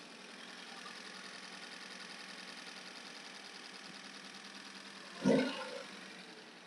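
A Datsun 510 engine idles at about 800 rpm during a Colortune air/fuel mixture adjustment, a steady, fairly quiet mechanical hum nearby, broken near the end by a brief louder knock or thump.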